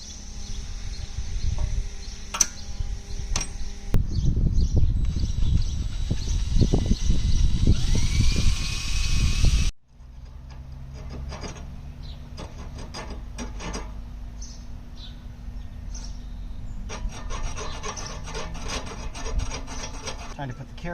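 Abrasive scrubbing on the brake spindle of a MK7 Golf, a steady rasping rub up close for about ten seconds, then a quieter stretch of scattered scraping and clicking.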